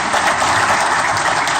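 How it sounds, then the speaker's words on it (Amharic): Audience applause for a guest at a church ministry show interview, a loud, dense, continuous clapping that stays steady throughout. "ለእትዬ ደጌ በጣም ሞቅ ያለ ጭብጨባ ጭብጨባ።"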